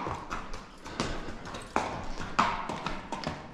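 A young, barely started horse walks under saddle on a loose rein, its hooves giving a steady clip-clop of soft thuds at a close distance, with no talk over them.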